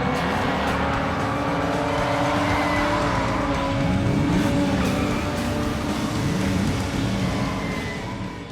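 A racing car engine roars steadily at high revs, with rising and falling pitch sweeps as it accelerates and shifts, loud and close with no voices.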